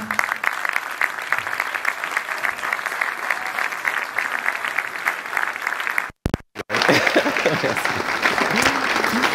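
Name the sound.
audience applauding the speaker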